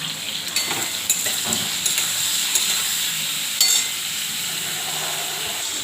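Prawns and potatoes fry in a pan while being stirred, a constant sizzle punctuated by several light clinks and scrapes of the utensil against the pan.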